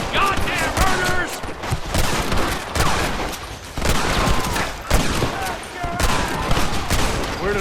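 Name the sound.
gunfire in Red Dead Redemption video game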